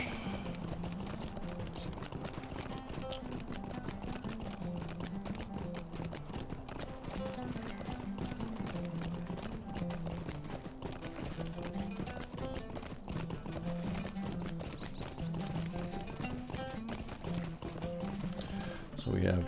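Horse hooves gallop in the Lord of the Rings Online game near Bree, a continuous rhythmic clip-clop running steadily throughout at moderate loudness, under background game music.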